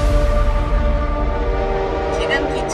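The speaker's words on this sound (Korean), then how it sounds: "지금 기차가 제2일 공동경제구역을 지나고 있습니다" A train passes through a joint economic zone, sounding a sustained, loud horn over the rumble of the rails, with voices heard alongside.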